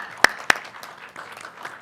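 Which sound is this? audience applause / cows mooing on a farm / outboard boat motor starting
audience applause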